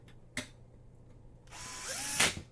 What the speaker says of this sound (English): Screws threading into plastic.